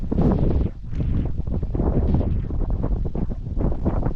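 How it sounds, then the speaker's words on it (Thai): Wind blowing across an open mountainside above upland rice fields in northern Laos, a steady loud rushing with gusty buffeting on the microphone throughout, no voices. "ลมพัดเย็นเลยขนาดตอนนี้"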